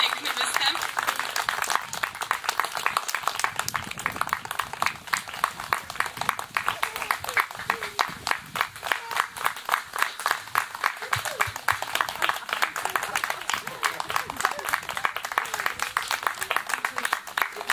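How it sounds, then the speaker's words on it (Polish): Steady audience applause fills the room after a small classical recital, dense clapping continuing without a break, with speaking voices over it. "Wielkie brawa."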